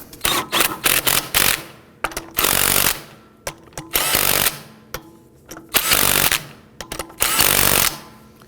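Wheel hub bolts on a Volvo S60 are snugged down in a crisscross pattern with a power tool. It sounds as a string of sharp, loud rattling bursts, some short and some about a second long, with brief pauses between them.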